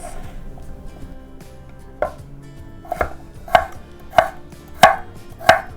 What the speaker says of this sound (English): now I'm just going to chop them up in big chunks